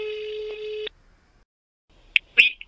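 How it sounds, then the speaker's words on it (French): Phone call heard through MyCarbon X10 Plus bluetooth wireless earbuds: a steady electronic ringback tone that cuts off abruptly, then silence and a couple of brief clicks and a muffled sound as the call connects. "je vais lui passer un petit coup de fil et on va voir si ça capte bien"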